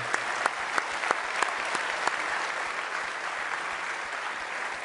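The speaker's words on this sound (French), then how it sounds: "il faut les applaudir" An audience at an awards evening for the 2016 Vendée Globe sailing race applauds in a steady, dense wash of clapping, with a few sharper claps standing out early and the ovation holding at an even level throughout.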